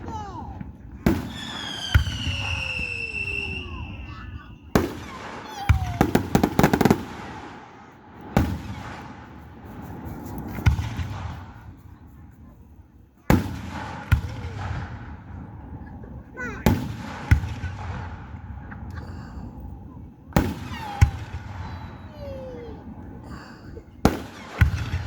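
Independence Day fireworks for the USA 250th anniversary at a park in Flora, a series of loud booming bursts spaced a few seconds apart, some with whistling launches and crackling tails, with people talking quietly between blasts.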